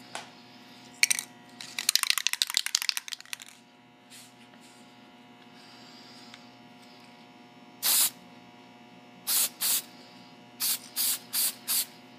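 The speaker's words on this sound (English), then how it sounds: "spray it with your bonder spray so that it gets around the edges" An aerosol can of decal bonder spray hisses in a long burst, then in several short sprays at a steady rhythm, close and crisp in a quiet room.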